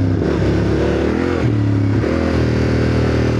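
A Yamaha Tenere 700 or Ducati DesertX adventure motorcycle rides off-road, its engine droning steadily and loud with shifting pitch and rev changes, plus some clatter and scraping, with no talk.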